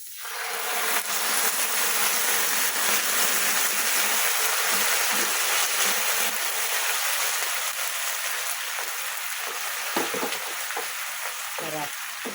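Sardines sizzle and fry loudly in a hot pan for the whole stretch, a steady, close hiss with light clinks and stirring scrapes near the end.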